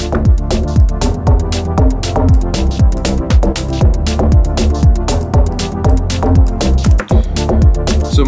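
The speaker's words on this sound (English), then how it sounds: "So most of what you hear is actually coming from the reverb, not from the plucks itself." Dense synth plucks drenched in heavy reverb wash over a steady deep house groove with punchy kicks. The reverb tails blur together into a thick, continuous, loud texture throughout, with no talking.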